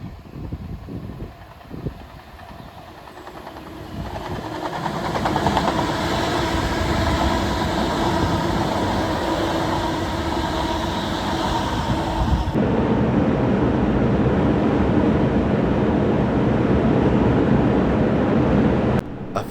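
Continuous rumble of a train running along the Trent Valley line from London Euston to Crewe, heard from the driver's cab as it leaves the fast lines for the slow lines at Attleborough South Junction, steady and loud with no talk.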